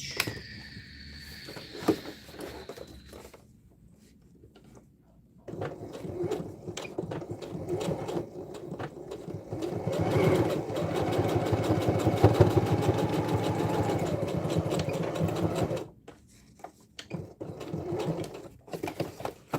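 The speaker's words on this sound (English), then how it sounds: "Make sure I backstitch enough." A sewing machine stitches a tote bag in a long steady run of rapid mechanical whirring and clatter, framed by quieter start-and-stop stitching at the beginning and end during backstitching.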